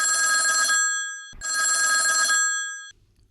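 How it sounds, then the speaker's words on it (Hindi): A telephone bell rings twice, two long bright trills separated by a short pause, loud and close, then stops. "एगो किसान भाई कर फोन आते फोन ला ले लेती।"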